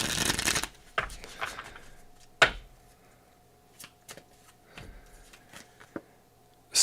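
Tarot cards are riffled in a quick close burst at the start, followed by scattered soft slaps, flicks and taps as cards are handled and laid down in a quiet room.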